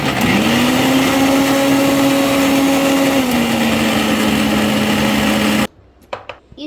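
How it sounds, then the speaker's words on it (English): A kitchen blender whirs at a loud steady pitch while blending banana with sugar for homemade ice cream, dropping slightly in tone midway, then cutting off abruptly into a few faint clatters. "and then you can blend"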